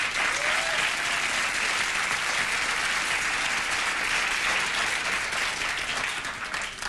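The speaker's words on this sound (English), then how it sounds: "Why are you applauding her?" A studio audience on a late-night talk show breaks into sustained, dense applause that stays loud and even for several seconds, fading slightly at the end.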